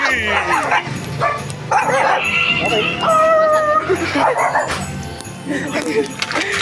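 A dog barks and yips close by, mixed with whimpering, while Christmas carolers talk over it in a noisy space.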